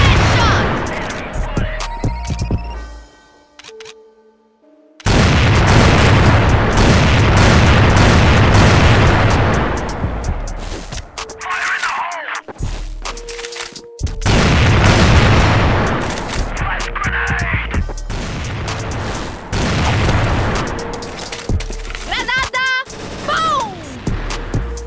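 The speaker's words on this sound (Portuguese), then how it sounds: "Olha a bomba!" Video-game bomb explosion: loud, booming blasts and broadband bursts mixed with heavy gunfire, a short dropout, then repeated roaring impacts over nearly half a minute.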